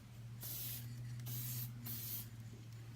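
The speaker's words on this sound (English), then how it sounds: "And I'm going to go ahead and start spraying." Aerosol spray coating applied in light passes to the inside of a Louis Vuitton bag: three steady hissing bursts, each about half a second long, separated by short pauses, close and fairly loud over a low background hum.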